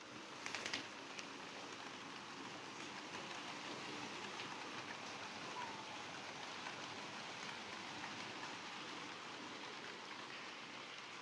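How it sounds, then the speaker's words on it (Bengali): Heavy rain pours steadily outside at night, a dense continuous hiss of drops drumming on surfaces with no voices, constant in level throughout. "এই যে বৃষ্টির আওয়াজ শোনা যাচ্ছে"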